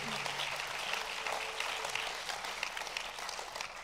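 An award ceremony audience applauds the prize-winner Lasse Linder, a sustained, fairly faint wash of clapping from a large hall that continues evenly throughout, with a brief voice near the start.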